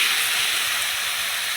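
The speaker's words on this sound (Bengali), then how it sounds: "ওই তেলের মধ্যে আমি কাঁকড়াটাকে ভেজে নেব।" Crab frying in hot oil after potatoes were fried, giving a steady, close hiss that stays even and alone for the whole short stretch.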